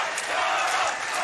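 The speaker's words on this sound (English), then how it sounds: "The crowd is loving it right now." A live audience at a Games Done Quick Mario Maker 2 race roars in a steady, dense wash of cheering and shouting right at the finish, loud and continuous throughout.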